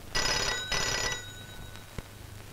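A telephone bell rings in two loud bursts, a short pause between them, then stops, leaving a quiet room with a faint tap.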